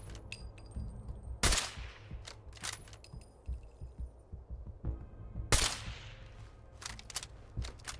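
Gunfire from a firefight in the video game Fallout 4: two loud, sharp blasts several seconds apart, scattered with quieter cracks and shots over a low background hum.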